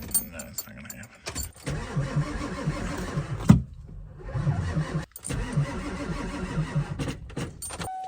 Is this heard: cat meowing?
no